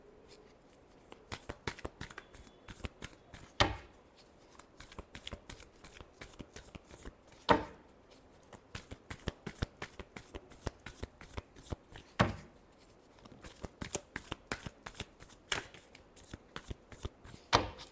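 Tarot cards being shuffled by hand, a quiet, close run of rapid riffling flutters broken by sharper snaps and slaps as the deck is squared, repeating steadily with no talking.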